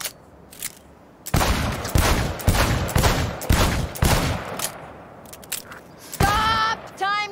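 Sharp, loud gunshots ring out at a shooting range in the video game Cyberpunk 2077. They come in a fast cluster of about five to six close reports, with a few fainter shots and a short ringing tone afterward.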